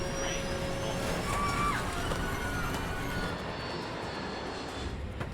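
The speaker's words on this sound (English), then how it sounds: "There's an aircraft crashing. Airplane going down." A crashing airplane's engine roars in a loud, continuous drone, with a steady rumble that holds throughout.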